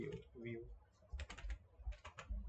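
Keys clatter on a computer keyboard as a website address is typed, with quick bursts of close clicks separated by short pauses and a brief murmur of voice early on.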